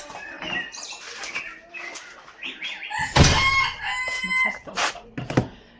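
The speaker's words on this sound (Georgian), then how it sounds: "ეხა გამოვში ქათმები." Chickens being let out of a coop cluck and stir nearby, with wing flaps, and a rooster crows loudly and close at about three seconds, followed by more clucks and short calls.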